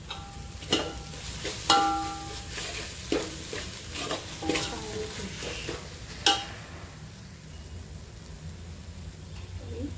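Cauliflower and peas for pav bhaji stirred and fried in a pan, with a steady sizzle under repeated scraping spoon strokes and sharp clinks through the first six seconds, then a quieter, even fry.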